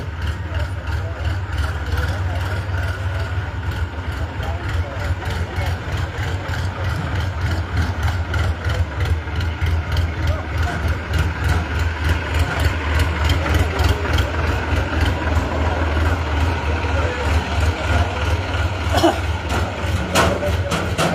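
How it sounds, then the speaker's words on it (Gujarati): A tractor engine runs close by with a heavy, throbbing idle beating in an even rhythm, loud and constant throughout, with faint voices underneath. "ટ્રેક્ટર ને લઈ જવા દે"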